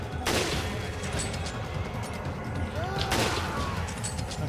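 Two loud, sharp bolt-action sniper rifle shots in the Resident Evil 5 co-op game, about three seconds apart, each with a short echoing tail over steady game background noise.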